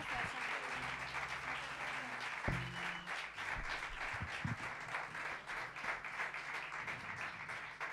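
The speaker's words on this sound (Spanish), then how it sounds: "Aplauso para Delfina Sinatra." A live bar concert audience applauds in a steady, dense wash of clapping that continues throughout at moderate distance, with a few faint voices in the crowd.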